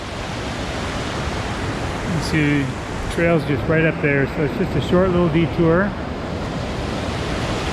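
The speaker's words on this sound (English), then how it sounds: "water's cascading down" Water cascading down a mountain stream near Sky Pond in Rocky Mountain National Park, a steady broadband rush heard throughout. A voice talks over it partway through.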